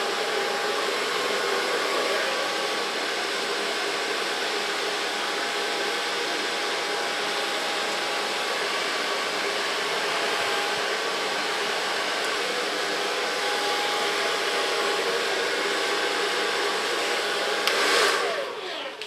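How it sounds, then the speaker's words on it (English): Hair dryer blowing on hair during a blow-dry, a loud, steady close whoosh held unbroken for the whole stretch, with a brief shift in tone near the end as the airflow moves. "So far blow drying."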